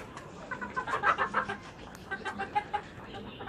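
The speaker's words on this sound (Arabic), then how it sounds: "اشتريت جوز البط ده ذكر وانتهي" A pair of native domestic ducks gives off soft, quick runs of clucking quacks, fairly faint and close, in short bursts with brief pauses between them.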